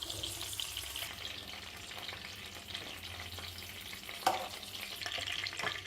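Green chillies fry in a pan for a tomato and green chilli chutney, a steady broadband sizzle holding throughout with the soft scrape of stirring and one sharper clink near the end, no voices.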